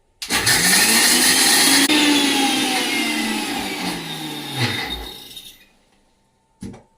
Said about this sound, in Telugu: మిక్సీ వేసుకొని